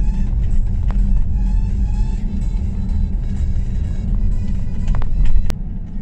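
A Porsche Cayenne cruises along a road at around 80–90 km/h, a steady loud low engine and tyre rumble filling the cabin, with faint ticks and a brief swell near the end, no speech.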